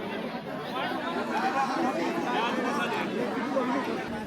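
Dense crowd chatter fills a village temple feast in Ramgad, with many voices overlapping steadily and close by as people gather for the meal after the aarti.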